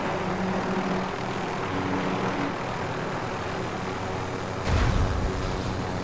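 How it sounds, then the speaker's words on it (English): A helicopter in a multiplayer shooter game, its steady rotor and engine drone holding loud and continuous throughout, with a brief louder thump near the end. "I'm gonna leave the chopper here"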